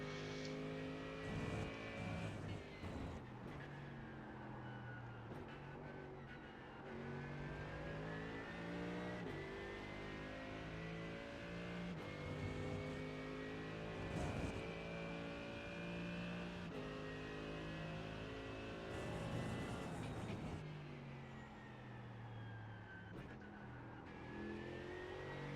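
A race car in iRacing at Mugello revs hard through the gears, the engine note rising and dropping with each shift and lift, loud and close with no talking.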